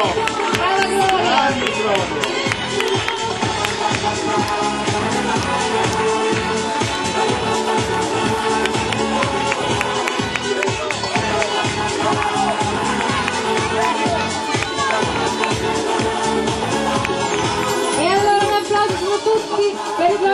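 Audience applause for a contestant at the Miss Patacca Vigliacca 2007 national pageant final: dense, sustained clapping from a large crowd that runs loud and unbroken for the whole stretch, with a voice audible over it.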